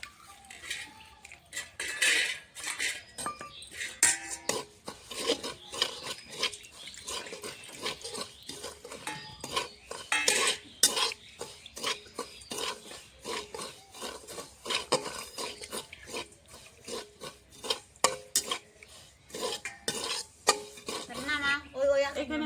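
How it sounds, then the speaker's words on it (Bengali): Semolina dry-roasting in a pan while being stirred, with steady scraping and clinking of the spoon against the pan that continues throughout at moderate loudness. "এখন আমি সুজিটা হালকা রোস্ট করে নেব সুজিটা আমি ভেজে নেবো হালকা লাল লাল করে"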